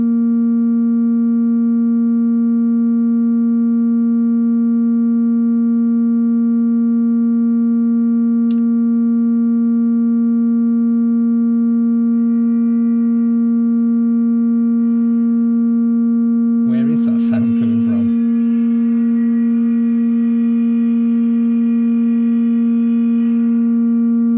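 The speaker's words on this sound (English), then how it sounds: "That was the feedback off the reverb." A Eurorack synthesizer hums with a steady sustained tone rich in harmonics, then feedback from its reverb module bursts in as a short noisy swell and lingers as a brighter ringing layer.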